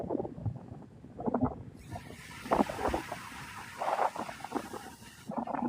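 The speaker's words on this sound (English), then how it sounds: "It's starting to get breezy" Gusty wind buffets the microphone at Navarre Beach, Florida, a broad rushing hiss that swells and stays loud across the stretch, with no talk over it.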